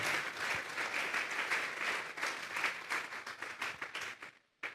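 A church congregation claps together during a Spanish-language sermon, a dense, steady burst of applause that carries on for several seconds before breaking off abruptly near the end.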